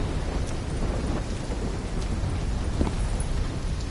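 Heavy rain pours steadily in a thunderstorm from the Call of Duty 3 campaign, with deep rumbling thunder underneath and a few sharper cracks rising out of the continuous downpour.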